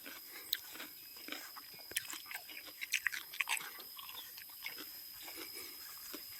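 Crisp melon crunched between the teeth up close, with a run of sharp bites and chewing crackles spaced irregularly across several seconds against a quiet outdoor background.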